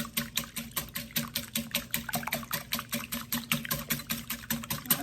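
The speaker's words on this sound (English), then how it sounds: "using a whisk, I'm going to whisk this up" Eggs whisked in a bowl, a quick steady run of light rhythmic taps and swishes, close and fairly quiet, with no talk.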